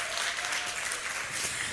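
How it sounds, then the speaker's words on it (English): Audience hand clapping at a launch and graduation ceremony: a brief, dense burst of steady applause from a crowd, continuous throughout. "Please let us give her a big hand clap"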